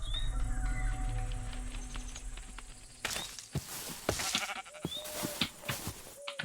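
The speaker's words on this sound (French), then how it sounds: "Le mouton, il m'a fait peur." Sheep bleat in the video game From The Fog. Several short, wavering bleats come through near the end, mixed with clattering and thumping game sounds after a quieter stretch.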